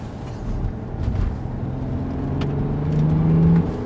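Turbocharged car accelerating hard, its engine note rising steadily in pitch and growing louder toward the end, heard from inside the cabin with no talk.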